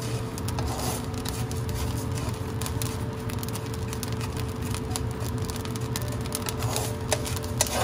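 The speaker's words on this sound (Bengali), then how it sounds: "দেখুন চালগুলো ফুটছে," Rice dry-roasting in a pan into korai, a dense continuous patter of tiny pops and crackles over a low steady roar, fairly quiet and with no voices.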